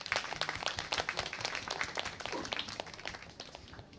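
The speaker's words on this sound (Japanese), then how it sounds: "拍手。" An audience at a live music event breaks into applause after a performance, with quick, close hand claps that start loud and gradually thin out over a few seconds.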